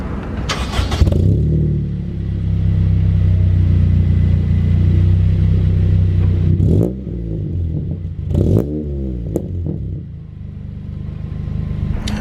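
A Honda Civic EP3 Type R with a Scorpion exhaust fires up with a sharp burst, then settles into a loud, steady idle rumble before revving and pulling away with rising engine notes, all close to the microphone.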